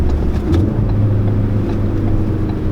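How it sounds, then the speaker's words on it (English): A 2017 Ford Focus RS pulls hard through first gear, its engine a loud, steady low drone heard from inside the car for the whole stretch, with no break in the noise. "we're gonna do a little 1st gear pull here to see how it does"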